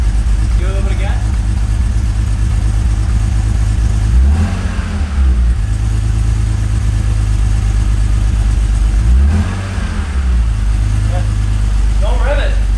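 A BMW wagon's engine runs and revs while it misfires badly, with a steady loud engine drone that rises in two clear revving surges. Voices talk nearby over the engine noise.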